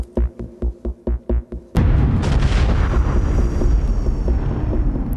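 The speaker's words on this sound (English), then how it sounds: "The ground is now rocked by daily explosions at the nearby mine." Blasting explosions at a nearby open-cast coal mine in South Africa: a rapid series of about seven sharp, regularly spaced thumps, then a single massive booming blast that rumbles on heavily and loudly.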